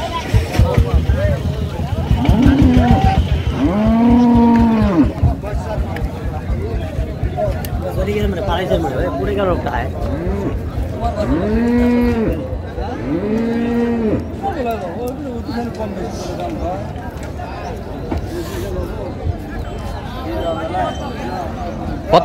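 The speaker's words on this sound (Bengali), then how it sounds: "গাভী বাছুর আমরা দেখছিলাম" Dairy cows and calves moo repeatedly at a busy rural cattle market in Dinajpur, long drawn-out bellows rising and falling over constant crowd chatter and bargaining voices nearby.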